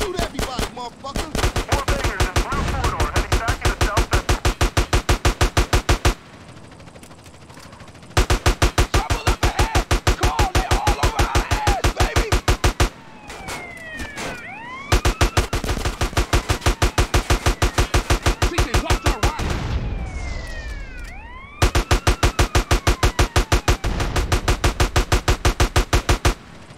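Automatic gunfire in the video game GTA San Andreas, long rapid bursts of loud repeated shots separated by short pauses, with occasional voices between bursts.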